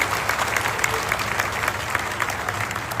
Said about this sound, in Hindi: एक और जोरदार ताली आपकी बननी चाहिए